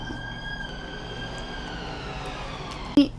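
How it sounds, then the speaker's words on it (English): An emergency siren drones steadily in the distance under a low background hum, ending with a brief sharp knock near the end. "There's a siren, so I'm going to pause for a minute."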